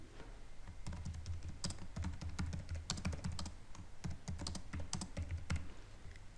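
Someone types a name on a computer keyboard: a quick, irregular run of light key clicks in short bursts, close and fairly quiet, with no voices.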